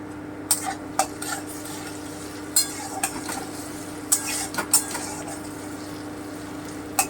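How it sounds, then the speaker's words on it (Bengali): Chopped onion browning with garlic paste in a pan gives a low steady frying hiss, broken by a handful of sharp utensil scrapes and clinks against the pan, with no talking. "আমি হালকা ব্রাউন করে একটু ভেজে নিচ্ছি এবারে আমি রসুন বাটাটা দিয়ে দিচ্ছি"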